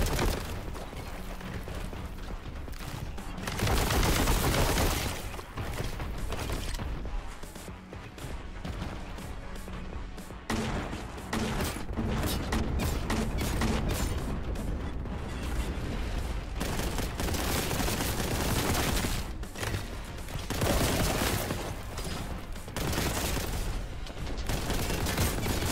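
Heavy, rapid bursts of plasma launcher fire in the game Warhammer 40K: Boltgun, dense crackling volleys and crashing impacts that run almost nonstop, with short lulls between loud barrages and no talking.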